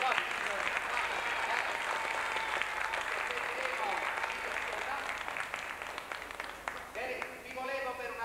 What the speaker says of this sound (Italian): mi serve un applauso